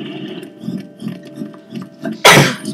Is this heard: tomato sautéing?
no